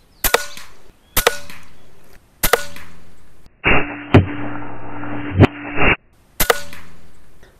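P35X Evolution air rifle firing slug shots outdoors: four sharp, loud cracks spaced about a second apart, then a steady mechanical hum for two seconds with clicks inside, then another sharp shot.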